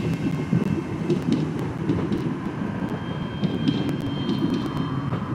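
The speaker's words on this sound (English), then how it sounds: "There's the train. I got the train." Passing train rumbles as a steady broad drone, fairly distant and continuous, mixed with the sound of aircraft overhead at an outdoor air display during the G7 Summit.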